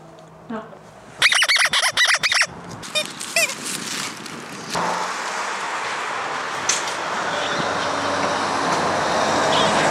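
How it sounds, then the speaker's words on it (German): A dog's squeaky toy squeaks in a quick burst of repeated sharp squeaks, followed by a few scattered squeaks and then steady background noise, with a Staffordshire Bull Terrier and a Dalmatian in the room. "Kuba hat gerade zum ersten Mal in seinem Leben ein Quietschespielzeug"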